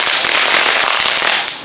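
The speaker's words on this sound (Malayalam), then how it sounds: "ഗുണ്ട് കത്തിച്ച് ഓടിപ്പോയി." A gundu firecracker set off during a Vishu celebration in Kerala: a loud, close, harsh burst of crackling and popping that lasts over a second before quickly dropping away.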